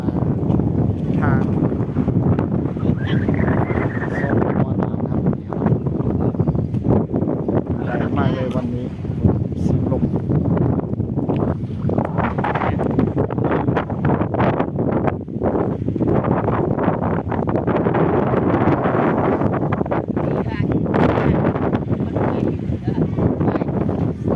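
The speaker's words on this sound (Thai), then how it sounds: "ลมแรงครับลมมา" Strong wind blows beside the Mekong River, roaring and buffeting the microphone in continuous gusts, with a voice speaking intermittently beneath the noise.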